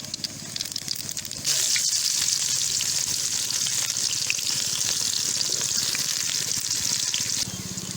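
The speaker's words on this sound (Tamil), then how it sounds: "கடுகு நல்லா பொந்திடுச்சு. அடுத்தது நிமிஷம் நல்லா சோம்பு போடணும்." Mustard seeds and fennel crackle and sizzle in hot oil for a village-style country crab rasam. After a quieter opening second the frying jumps to a loud, dense, steady hiss that continues close up to the end.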